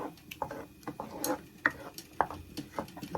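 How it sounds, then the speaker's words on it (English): Palm oil stirred in a pot over a fire, quiet and close, with irregular spoon taps and scrapes against the pot and a faint sizzle underneath, no talking. "We're just gonna consistently stir"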